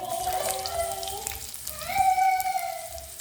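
Cumin and mustard seeds with onions frying in hot oil for a dal curry, a crackly sizzle with scattered pops, overlaid by tonal tones in the background that swell in the middle of the clip.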